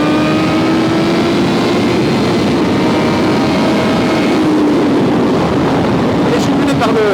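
A 2020 Honda CBR1000RR-R Fireblade SP's engine roars loud and close, rising and holding high revs under heavy wind rush as the motorcycle rides, with a voice speaking over it.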